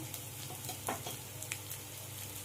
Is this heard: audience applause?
no